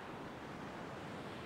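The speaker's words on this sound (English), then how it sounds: "you've got this shallow sandbar with the waves crashing on it" Waves crash on a shallow sandbar at a beach, heard as a steady, faint, broadband wash of surf mixed with wind noise. It rolls on unbroken, with no voices.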